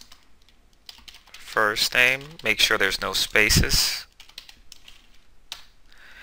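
Rapid keystrokes on a computer keyboard while entering code, a quick run of clicks mixed under a man's close spoken instructions, then a few scattered taps after he stops talking.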